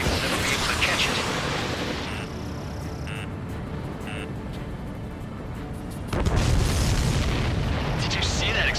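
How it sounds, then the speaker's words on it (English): A loud, heavy explosion in the aerial combat game Ace Combat 7 bursts in about two-thirds of the way through, over a steady roar of jet engine and battle noise. "Did you see that explosion? Looks like that's one of them down."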